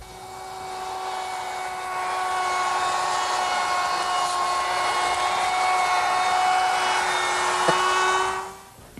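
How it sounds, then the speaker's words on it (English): An electric router cuts a cove along the bottom corner of a wooden fascia board, giving a steady, loud, high-pitched whine that holds for about eight seconds before spinning down near the end. "down at the bottom corner I've put a little cove, and I'll do that with a router"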